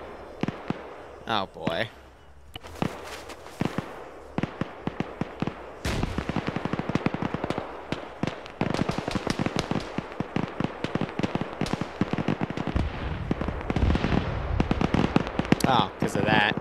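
Military-op video game gunfire: scattered sharp shots and bursts, some rapid, cracking over and around voice chat where players talk.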